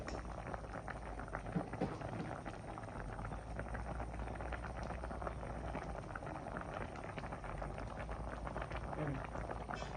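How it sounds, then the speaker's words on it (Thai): A Thai catfish jungle curry with eggplant bubbles in a pot, giving a faint, continuous simmering patter and gurgle that stays even throughout, with no talking heard. "อันนี้เราก็รอให้มันเดือดเรื่อยๆ"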